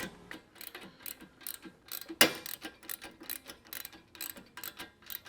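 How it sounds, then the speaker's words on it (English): Bolts are tightened to fit bearings loosely onto a go-kart axle during a kart build, giving a rapid series of close metallic ratchet clicks in uneven bursts, with one sharper clank partway through. "So we're getting these bearings bolted in loosely so we could still adjust the axle"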